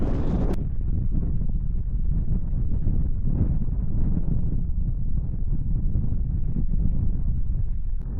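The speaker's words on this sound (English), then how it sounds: "it'd be constantly just wind tearing through here" Strong wind near Mount Columbia in the Canadian Rockies, a constant loud roar battering the microphone with steady low rumbling gusts and no voices.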